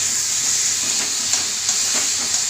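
Spice paste with ground chilli and a little added water being sautéed for an egg curry with potatoes, a steady close sizzle with occasional soft stirring scrapes, no voices.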